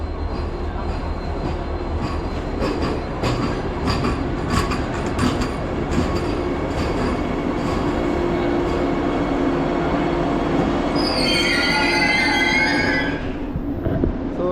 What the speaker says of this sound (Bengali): ফাইনালি সেই বন্দে ভারত চলে আসলো এখানে